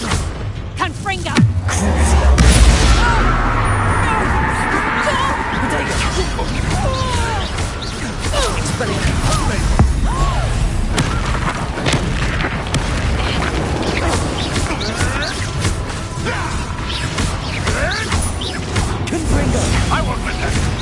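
Repeated Confringo spell blasts go off in Hogwarts Legacy on PS5, loud booming, crashing bursts amid constant game noise, with a person shouting and talking over them throughout.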